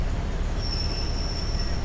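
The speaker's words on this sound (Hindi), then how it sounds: "यह जो ट्रेन जा रही है 1:05 पे बैंकॉक रेलवे स्टेशन से बान क्लॉन्ग लुक बॉर्डर जो कि कंबोडिया का बॉर्डर है" Passenger train running from Bangkok toward the Cambodian border at Ban Khlong Luk, heard up close as a steady, loud rumble of wheels on rails with a sustained high metallic wheel squeal.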